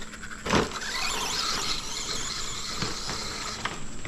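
A Traxxas Slash VXL two-wheel-drive RC car fitted with a metal spur gear runs nearby, its electric motor giving a continuous high whine with gear squeal and a few brief knocks.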